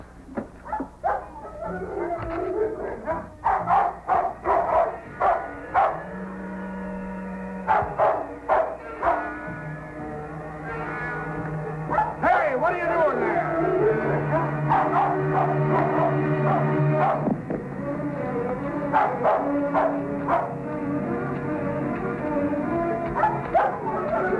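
Dogs bark and yelp in irregular bursts at a moderate distance, with steady background tones and occasional voices underneath.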